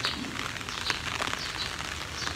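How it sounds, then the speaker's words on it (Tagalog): Steady outdoor rain patters and hisses on a surface, a continuous dense crackle with no voices. "umuulan na naman."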